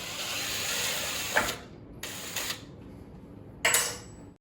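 Ratchet turning a T45 Torx bit to break loose a bolt on a Bird 3 electric scooter, three separate bursts of rapid clicking with short silent pauses between them, close and clear.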